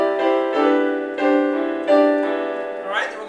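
A piano plays slow, sustained chords, about five struck in sequence with rich ringing overtones, each held and overlapping the next, clear and close with no talk.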